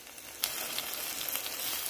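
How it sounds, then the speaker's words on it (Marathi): Chopped onion frying in a pan with oil, a steady soft sizzle with faint crackles and pops scattered through, quiet and close, no voices. "छान असा फ्राय होतो कांदा"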